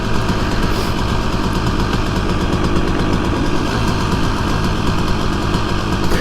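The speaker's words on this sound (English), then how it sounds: "It's idling just a whisker high" A KTM two-stroke dirt bike engine idles slightly high, steady, with a constant buzzing rumble and faint vibration, running alone throughout without voices.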